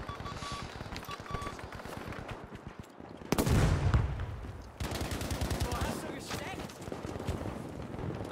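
Gunfire from Battlefield 5 gameplay, rapid bursts of shots with a loud close blast midway, running under scattered game noise and a player's voice.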